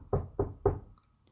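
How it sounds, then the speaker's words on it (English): Three firm knocks on a door, evenly spaced and close by, followed by quiet. "these people came knocking at the door again"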